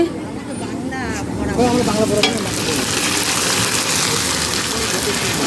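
Neighbourhood men cook khichuri in a large pot outdoors at a local Kali Puja gathering, a loud steady sizzle and stirring churn beneath a hubbub of nearby voices talking.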